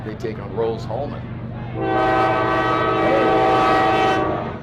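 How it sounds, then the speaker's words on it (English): A train horn blares loud and sustained from tracks right beside a college football stadium during a Manchester versus Franklin game, with rumbling rail noise beneath and an announcer talking over the start. "That's a train, by the way, in case you're wondering what that was."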